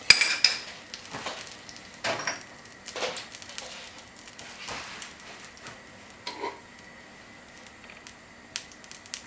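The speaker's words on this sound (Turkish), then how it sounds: "Şimdi üzerine koyacağımız tereyağında naneyi yakacağız." Mint frying in butter in a pan for a chicken flour soup, soft sizzle under sparse clinks of a spoon against the pan, quiet and close.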